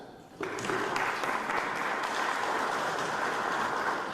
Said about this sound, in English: I think we need to give a round of applause to that